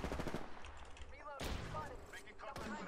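Gunfire in the video game Apex Legends: rapid automatic bursts and sharp shots crack through the mix while people talk over the action.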